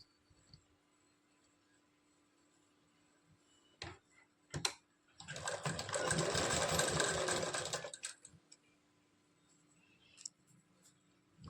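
A sewing machine stitches a belt strip onto a blouse in one loud, steady run of rapid needle chatter lasting a few seconds, framed by sharp clicks and taps from handling before and after.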